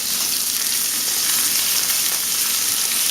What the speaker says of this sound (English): As you can hear, that's sizzling away quite well.